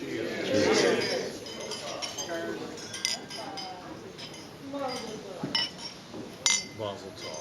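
Glasses clinking during a best-man toast at a wedding, several light scattered clinks against murmuring guests and nearby talk.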